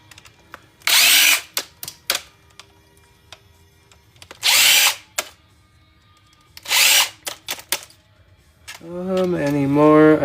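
A power drill whirs in three separate one-second bursts, backing screws out of a desktop computer case, with small clicks and handling noises between runs and a voice talking at the end.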